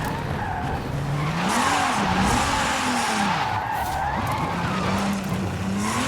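A 2023 Nissan Z in the Forza video game revs its engine, with a rising and falling brassy drone that turns trumpet-like at high RPM over continuous screeching tire slides.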